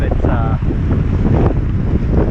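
Strong wind gusting on a mountain trek in the Sylarna range, a loud, continuous roar buffeting the microphone close up with no pauses.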